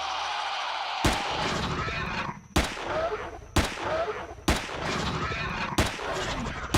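Pistol shots in the video game Empyrion Galactic Survival (Alpha 7), about six sharp reports fired at irregular intervals over a constant background hum of in-game ambience.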